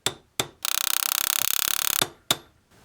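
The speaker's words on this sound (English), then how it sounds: "So here's some loud noises of hammerings." A hammer strikes metal earring wire in a jewelry workshop: a few sharp isolated taps, then a rapid dense burst of metallic blows for over a second, followed by two more single hits, close and loud.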